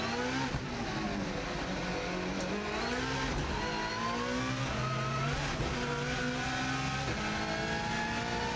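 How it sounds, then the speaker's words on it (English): Rally car at the Isle of Man TT course swinging through a tight right-hander with a handbrake pull, its engine loud and close from onboard, revs dropping and climbing through the corner with brief tire scrub. "got real tight right-hander, gives me a chance to give the handbrake a little pull"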